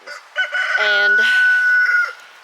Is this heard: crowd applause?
no